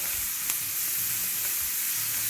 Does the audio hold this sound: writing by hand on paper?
no